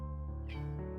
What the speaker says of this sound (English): multiple very, very, very small meows that sounded like one big meow